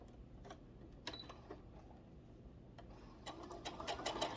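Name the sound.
sewing machine stitching fabric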